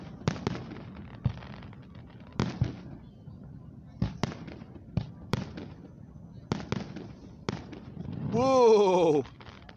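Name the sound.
fireworks show exploding at Celina Lake Festival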